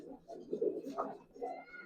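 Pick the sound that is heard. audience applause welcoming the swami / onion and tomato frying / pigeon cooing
pigeon cooing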